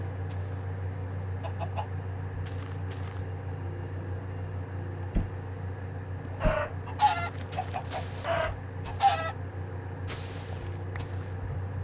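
A Minecraft chicken lets out several short, harsh clucking squawks in quick bursts midway, over a constant low drone, with a few sharp clicks and thumps scattered around them.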